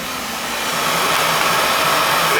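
A Beckett oil burner fires and runs after its annual service, with a new nozzle and filter fitted. It makes a loud, steady roar that holds even and unbroken throughout.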